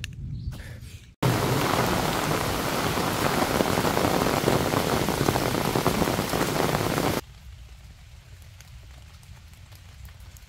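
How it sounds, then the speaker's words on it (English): Heavy, even rain pours down during a thunderstorm on a dark Appalachian Trail stretch, a loud dense hiss that starts abruptly after a short quiet moment and cuts off to a softer patter. "raining on and off, so the rocks are all slippery now"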